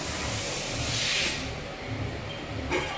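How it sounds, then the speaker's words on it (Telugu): A burst of hissing sizzle as hot tempering oil is mixed into raw mango dal, fading after a second, then a brief second hiss at the end. "ఇప్పుడు ఈ తాలింపును కూడా ఇందులో కలిపేస్తానండి"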